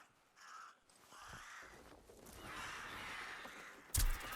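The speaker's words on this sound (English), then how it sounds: "a murder of crows" Crows cawing in the video game Atomfall, several harsh calls rising over a steady outdoor ambience, with a louder burst of noise near the end.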